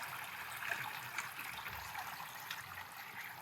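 Water draining through artificial turf after a soaking, heard as a faint, steady trickle with soft dripping and gurgling close by, with no one talking.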